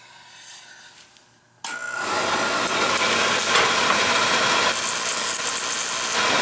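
An oil burner furnace with a Webster pump and a bad nozzle fires up after a quiet moment, then holds a loud, steady roaring rumble close by with no voices.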